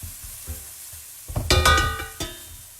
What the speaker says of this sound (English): we're just letting these saute for a second